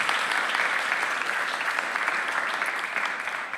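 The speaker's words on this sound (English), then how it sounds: "Give them a warm hand of applause." Warm audience applause at a lecture, a dense steady wash of many hands clapping close and loud throughout, with no pause.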